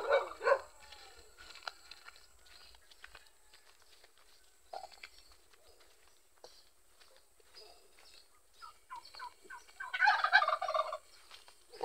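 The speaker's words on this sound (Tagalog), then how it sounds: "Yung pabo mga be" A turkey gobbles in short rattling bursts at the start and again louder near the end, with quieter bird calls between, faint and alone over a quiet background.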